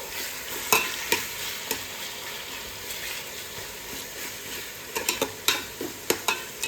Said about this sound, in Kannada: ಸೊ ಇದನ್ನೆಲ್ಲ ಹಾಕಿ ನಾನಿಲ್ಲಿ ಚೆನ್ನಾಗಿ ಮಿಕ್ಸ್ ಮಾಡ್ಕೋತಾ ಇದ್ದೀನಿ